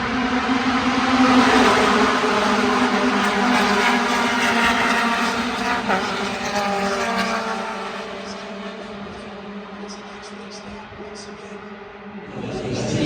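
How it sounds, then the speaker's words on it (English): Mazda MX-5 Cup race cars roar past on the track in a sustained, loud engine drone that gradually fades as they move away. "Oh, here's the cars, I hear them."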